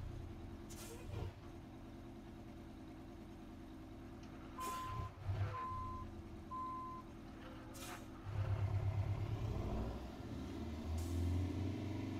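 A 1978 GMC Astro truck in American Truck Simulator backs up: three evenly spaced reversing beeps sound over a low idling engine, with sharp air-brake hisses and a heavier engine rumble rising afterward.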